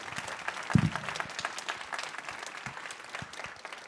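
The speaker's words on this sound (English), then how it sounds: "Can everybody give her another round of applause?" An audience applauds at a literary evening event, a soft, steady patter of many hands clapping at a distance, with one louder thump near the start and occasional brief voices underneath.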